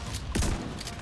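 Shotgun blast in The Division 2, a single loud low-heavy boom with a quick decay, followed by fainter distant shots over steady game ambience.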